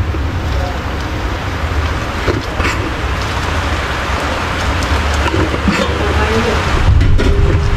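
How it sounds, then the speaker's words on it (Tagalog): Heavy rain pours in a dense, continuous hiss with scattered drops and splashes, loud and close, with a faint voice mixed in. "Bigla na naman bumuhos yung ulan."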